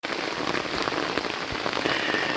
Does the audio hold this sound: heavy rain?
yes